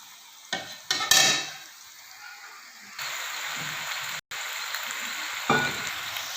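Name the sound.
vegetables frying for pulao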